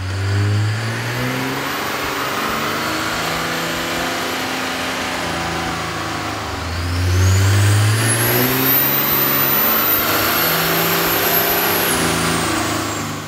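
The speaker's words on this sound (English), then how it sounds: "we ran the vehicle on the dyno to test the sound comparison versus the stock intake" A 2003 Dodge Ram 2500 pickup with a 5.9L Cummins diesel and a K&N air intake revs on a dyno, a loud continuous engine roar that swells higher partway through, heard close with no talking.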